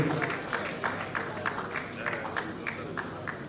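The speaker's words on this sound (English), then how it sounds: "Please a round of applause for the deputy president." Scattered applause from a dinner audience at an alumni awards and reunion event, honoring the deputy president; the clapping is moderate and uneven, with faint crowd murmur and some talk mixed in.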